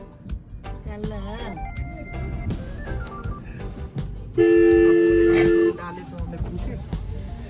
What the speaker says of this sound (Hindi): इतना हॉर्न क्यों?